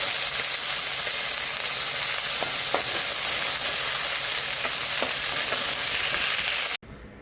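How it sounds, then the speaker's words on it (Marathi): Coriander roasts in a hot pan for a traditional village-style vegetable dish, a loud, even frying hiss that carries on without pause until it cuts off abruptly near the end. "त्यात आपण कोथिंबीर टाकणार आहे. जरा चांगलं भाजून घ्यायचं."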